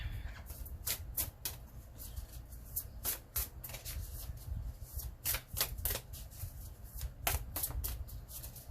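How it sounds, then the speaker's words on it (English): Tarot cards shuffled for a new moon reading, a steady stream of quick, close riffling snaps repeating in irregular bursts throughout. "I'm going to pull a couple more cards"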